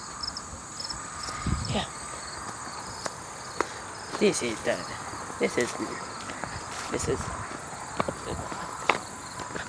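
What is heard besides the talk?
crickets chirping in the countryside by a lake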